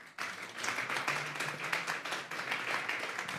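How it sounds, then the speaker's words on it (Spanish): A church congregation claps together in a loud, steady burst of rapid hand claps that carries on without a break. "Denle un fuerte aplauso al Señor"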